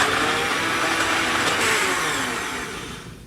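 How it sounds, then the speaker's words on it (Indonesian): An electric blender whirs steadily, grinding shallots, candlenut, ginger and garlic with oil into a paste, a loud continuous motor drone that slowly eases off near the end, with no talking. "Ini akan saya beri minyak baru saya blender ya."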